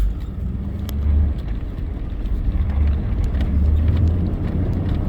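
Truck engine rumbling low and loud as it pushes through a deep snow drift, with surging power and a steady whooshing wash of snow and wind, close and without talking.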